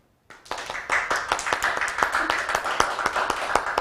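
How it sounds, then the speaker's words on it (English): A few people clapping at an online awards evening honoring a 20 Under 40 group, sudden onset then a steady, fairly close patter of hand claps with no talk over it. "How about a round of virtual applause?"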